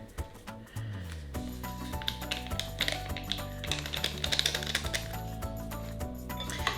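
A spoon scrapes and clinks against a bowl as flour dough with a packet of yeast is mixed for pita bread, giving irregular close taps and clatter over steady background music.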